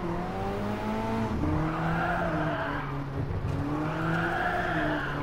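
Tires on an Alfa Romeo 4C with a 1.7 turbo engine squeal through a skid in the racing game GT Sport, sustained wavering tonal screeches over the engine's drone, loud and close for the whole stretch.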